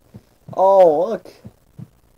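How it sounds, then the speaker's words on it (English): Video game heartbeat: soft, low thumping pulses, faint and spaced apart, with a spoken voice briefly rising over them in the middle. "I got a heartbeat."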